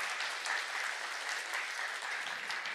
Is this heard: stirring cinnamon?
no